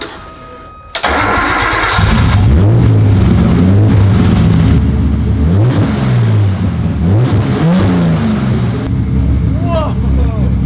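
A rebuilt Nissan Skyline engine fires up after a sputtering start and settles into a loud, steady idle with a few rising revs, while people talk over it.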